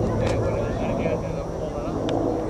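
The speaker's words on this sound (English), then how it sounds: "Comes our one rescue helicopter. Well, not rescue, water dropper." A water-dropping firefighting helicopter flies over a wildfire in the 2007 Santiago Fire, its steady droning rumble filling the air continuously while people talk faintly nearby.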